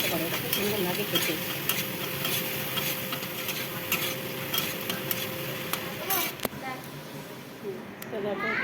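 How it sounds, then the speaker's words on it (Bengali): Food frying and being stirred in a pan produces a steady sizzle with repeated scraping and clinking strokes, while a voice talks over it. "যাতে ভাজা ভাজা করছি, একটু ভেজে নিচ্ছি, হালকা করে ভেজে নেবো"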